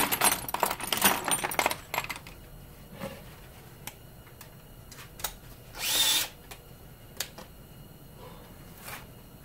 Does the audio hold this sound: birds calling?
no